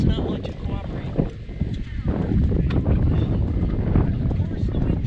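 Wind rushes and buffets over a sailing boat, a steady broadband roar close to the microphone with a few thumps, and a person talks intermittently underneath.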